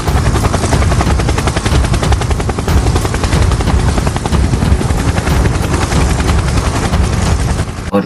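Helicopter rotor thudding loudly and steadily throughout, mixed with bursts of rapid gunfire in a dense, continuous attack sound effect with no pauses.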